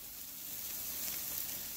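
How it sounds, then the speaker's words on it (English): Food sizzling on a barbecue grill, a steady, moderately quiet frying hiss that carries evenly from start to finish with no voices over it. "Let it sizzle."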